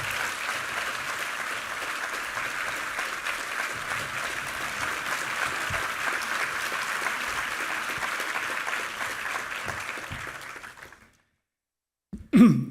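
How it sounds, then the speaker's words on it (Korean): A church congregation gives a guest professor a warm round of applause, sustained and even for about eleven seconds before cutting off abruptly, followed by a brief vocal sound. "박수로 교수님을 맞이하겠습니다"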